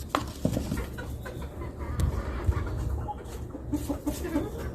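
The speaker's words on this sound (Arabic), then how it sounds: "كل ما تأكل الدجاجة يا أستاذ باسم يبدأ ينزل لها علف جديد" Chickens cluck intermittently in a backyard poultry setup with an improvised gravity feeder, scattered short clucks and calls at moderate distance over a constant low background noise.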